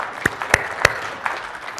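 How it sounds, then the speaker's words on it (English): A small conference-session audience gives a brief, thin round of applause, with a few sharp, distinct claps standing out over a softer patter that fades within two seconds. "Let's give them applause."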